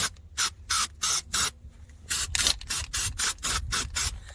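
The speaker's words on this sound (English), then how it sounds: "And I'm going to spray inside of here as well." A primer spray can hisses in about a dozen short, sharp bursts on a Toyota rear panel rust repair, spaced at first, then quicker and more regular toward the end, close to the microphone.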